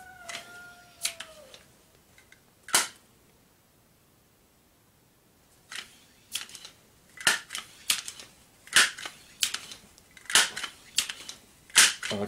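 Pumping a Benjamin 392/397 air rifle fitted with a two-spring valve mod, heard as a run of about nine sharp clacking strokes in a steady rhythm after an early lone click and a pause, close and fairly loud.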